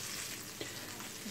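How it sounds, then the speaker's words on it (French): Cauliflower croquettes fry in hot oil over medium heat, giving a steady, soft crackling sizzle with a few small pops, close but fairly quiet, no talking. "je suis en train de les faire frire à feu moyen"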